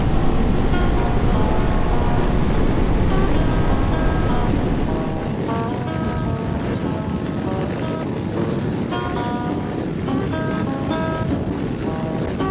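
A rider is underway on a Honda CB500X motorcycle, with engine drone buried under loud, continuous wind rush against the microphone throughout.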